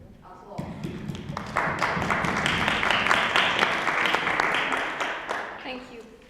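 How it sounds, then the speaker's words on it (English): Debate audience applause rises from a few scattered claps into steady, dense clapping across the room, holding for several seconds before tapering off. "Applause."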